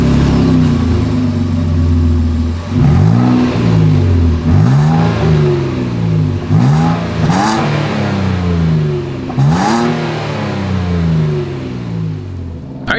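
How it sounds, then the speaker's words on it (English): A 2025 Nissan Frontier SV with a single exhaust is revved repeatedly from idle, each blip of the throttle rising and falling in pitch in a steady series of about half a dozen revs, loud and close from behind the truck. "As always, here is that exhaust clip."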